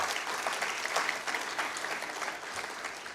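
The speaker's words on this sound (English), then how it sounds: "Give them a round of applause for that." Audience applause at a student leadership summit, a steady wash of clapping hands from a seated crowd that continues evenly throughout, moderately loud with no voices on top.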